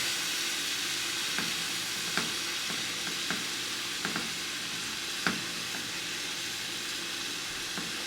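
Food frying in a pan, a steady bright sizzle and hiss heard up close, broken by occasional light clicks and taps of stirring, with no one speaking.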